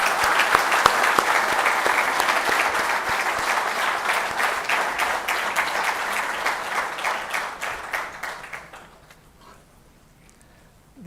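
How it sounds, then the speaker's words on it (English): Audience at an ICRISAT 50th anniversary celebration clapping steadily for several seconds, the applause thinning out and fading to near silence by the end. "let's start with clapping those people who contributed to this impact"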